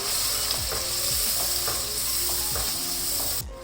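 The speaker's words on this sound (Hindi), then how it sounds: "चिकन कढ़ाई के अंदर 1 प्याली के जितना मैं दही डाल दूँगी" Chicken karahi sizzles steadily in a pan while yogurt is stirred in, with repeated scraping strokes of a spoon at a regular rhythm against a constant frying hiss, close and loud.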